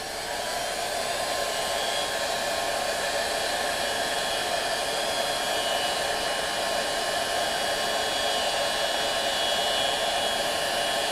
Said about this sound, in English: I'm hoping that if I heat this with my heat gun that it will expand enough that I can push the motor shaft in there